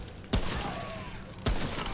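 Two sharp rifle shots fired in the video game Remnant: From the Ashes, spaced about a second apart, each with a loud punchy crack and a short ringing tail, with no talk over them.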